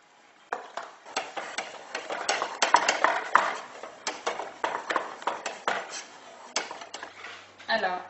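Flour being stirred into hot choux pastry dough in a pan, the spoon scraping and knocking against metal in a steady, close series of clatters across the whole stretch.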